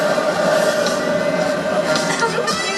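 A subway train rumbles steadily nearby at Universal Studios Hollywood at night, with a sustained metallic hum running through the continuous noise.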